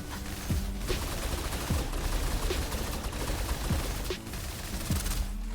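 Gunfire from the video game Snowbreak: Containment Zone comes in a dense, continuous barrage of sharp shots and impacts, with a few louder cracks standing out over busy game noise.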